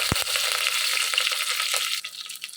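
Curry leaves, green chillies, cumin and mustard seeds hit hot oil while tempering a country chicken curry, bursting into a loud, steady hiss with a couple of sharp pops at the start and the sizzle easing slightly toward the end.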